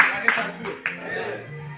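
A church congregation bursts into a short round of clapping, a few sharp claps over about two seconds, with a preacher's voice sounding alongside.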